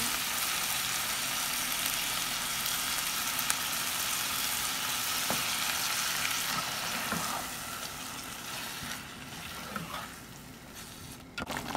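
Ready-made sauce, poured from a packet for homemade hot dogs, sizzles steadily in a hot pan, a loud continuous hiss that eases slightly toward the end, with faint clinks and no talking.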